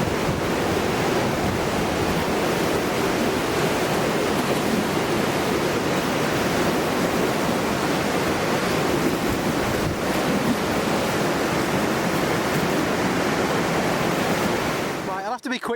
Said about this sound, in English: it's absolutely pouring down here